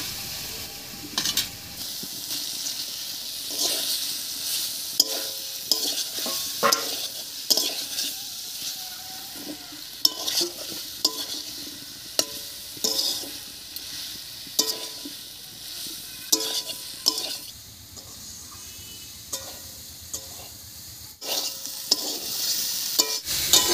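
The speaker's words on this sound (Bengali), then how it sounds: "মশলার সঙ্গে আলু ফুলকপি সোয়াবিন সব খুব ভালো করে কষে গেছে" Potato, cauliflower and soybean chunks stir-fried with spices in a pan, with a continuous hiss and sizzle under repeated scraping and clinking spoon strokes against the metal, close and fairly loud with no talking.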